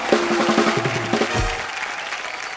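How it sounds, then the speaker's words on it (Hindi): A television comedy show's studio audience claps loudly to welcome two singers, a steady roar of applause with a short descending musical sting over its opening. "जोरदार तालियों से स्वागत"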